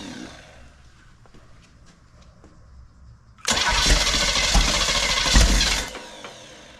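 Small block Chevy V8 engine, stored unused for years and sitting outside, cranks and fires up partway through, then runs loud and close with a rough, rumbling idle after a quiet start.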